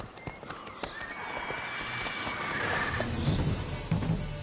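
Roach, a horse in a video game, whinnies while hooves clip-clop steadily at close range, the gait picking up toward the end over a low ambient bed.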